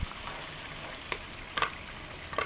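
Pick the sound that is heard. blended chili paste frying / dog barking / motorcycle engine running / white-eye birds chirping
blended chili paste frying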